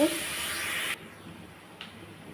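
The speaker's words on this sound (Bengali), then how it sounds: "সেটা ভালোভাবে কষানো হয়ে গেছে এবার গরম পানি দিয়ে দিব" A pot of taro and hilsa curry hisses loudly as hot water goes in, a bright rushing sizzle that cuts off abruptly partway through, leaving a quiet simmer with one small later spurt.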